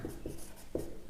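A pen writes out a math solution on paper or a board, giving a few soft, brief scratching strokes at close range with no talk.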